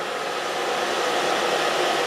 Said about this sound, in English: curls into the diffuser and let them dry